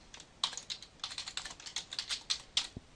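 HTML code is typed on a computer keyboard in quick, close bursts of crisp key clicks, some louder keystrokes standing out, with no voices and a quiet room behind.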